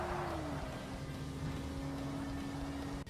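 Car engine in Forza Motorsport running on its basic stock exhaust, a steady droning hum with a slowly falling pitch, heard alone at moderate, even loudness.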